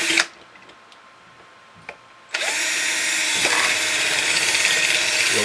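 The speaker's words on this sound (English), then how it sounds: "So I'm taking my trusty drill here" An electric drill bores a wire hole in a metal shop light fixture, spinning up after a brief tap into a loud, steady, close whine that holds without pause.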